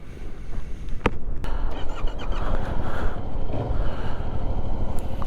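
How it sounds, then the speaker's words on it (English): Steady broadband wind buffeting on an open clifftop above white cliffs at Beachy Head, a loud continuous roar with gusty swells and occasional sharp knocks, no voices. "It's windy up here, I'll tell you that much."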